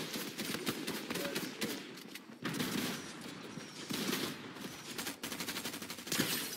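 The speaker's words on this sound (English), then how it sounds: "oh, they're shooting at me" Gunfire in Fortnite, rapid bursts of automatic shots and fusillades, loud and dense, rattling on and off with short pauses between volleys.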